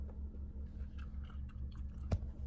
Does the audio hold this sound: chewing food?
yes